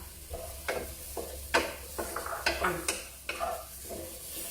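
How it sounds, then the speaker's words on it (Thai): Dried chilies are stirred and dry-roasted in a wok, with a series of scraping strokes and light rustling over a low, steady background rumble. "ต้องอยู่ในกระทะคนตลอด"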